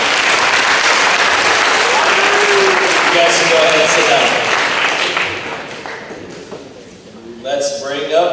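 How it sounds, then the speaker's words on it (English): Applause rings out from a crowd at a high school football banquet, dense clapping through the first half that thins and fades as someone speaks over it, followed by a few knocks and thuds. "So let's give them a round of applause."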